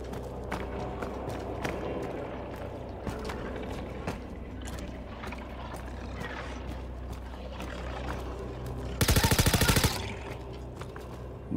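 PH gun fired in Star Citizen inside a huge cave, a rapid burst of loud, close shots near the end, preceded by footsteps and scattered sharp clicks over a low rumble.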